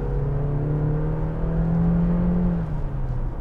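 The turbocharged four-cylinder engine of a 2017 Honda CR-V Touring AWD pulls steadily up a hill, giving a continuous whirring drone heard from inside the cabin with no talking.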